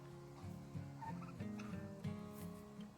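Turkeys in a backyard garden gobble in repeated rapid bursts, several rolling calls close by and fairly loud, one after another with no talking.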